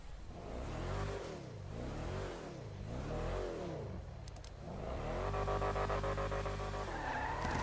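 Lampadati Novak, a V8 all-wheel-drive SUV in GTA 5, revs hard with swooping engine pitch rises and falls, then squeals its tires in a loud sustained skid while accelerating.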